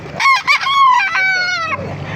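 A rooster at a gamecock farm crows once, loud and close, its call rising and then trailing off over about two seconds.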